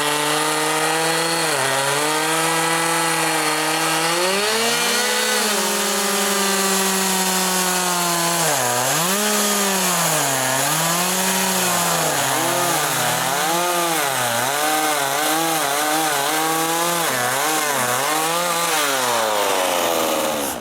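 A chainsaw mills an apple wood log into planks, its engine roaring loud and close without pause, the pitch rising and sagging as the cutting load changes across the whole stretch.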